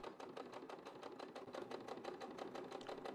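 A sewing machine runs steadily while top stitching around a welt pocket, with a fast, even rattle of needle strokes that continues without pause from start to finish.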